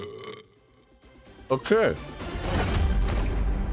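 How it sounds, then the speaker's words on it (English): A cartoonish, rubbery fart squeak from a MultiVersus character walking through a portal, one short wobbling blast after a brief spoken word, followed by rising game noise. "It farts after walking through the portal."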